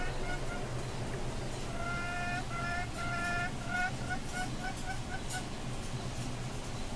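Chickens on a small rooftop farm clucking in a repeated series of short calls over steady background noise and faint voices.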